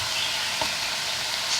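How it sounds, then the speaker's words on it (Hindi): Rice fries in a pan with a dense, even sizzle and one brief stir or scrape partway through, close-up and steady with no talking. "चावलों को हमने हल्का सा फ्राई किया।"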